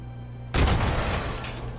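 A single loud, close explosion in the video game Robocop Rogue City bursts in after a quiet moment, its heavy low rumble and debris rattle tailing off slowly.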